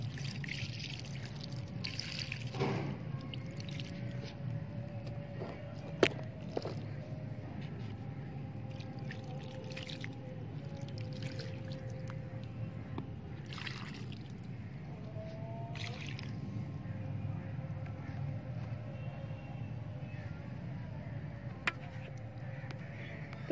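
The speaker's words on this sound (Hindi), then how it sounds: "तो अब हम इनके अंदर पानी डाल देंगे" Water is poured gently onto young stock flower saplings in pots, a soft, low trickle and splash running steadily for over twenty seconds with faint outdoor background noise.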